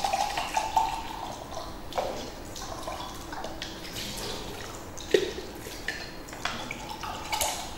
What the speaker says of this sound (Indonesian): Setelah dicuci di bawah air mengalir